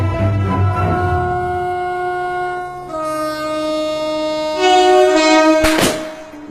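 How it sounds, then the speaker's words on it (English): A freight train passes close by with loud sustained horn tones shifting in pitch, ending in a sharp burst of rushing noise. "it's a train arriving"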